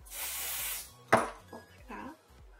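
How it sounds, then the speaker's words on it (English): Makeup setting spray in shades 301 and 401 hisses out in one steady spray of about a second. A few short, soft clinks and taps follow in an otherwise quiet room. "I just do a little spray there of 301 and the darker shade 401."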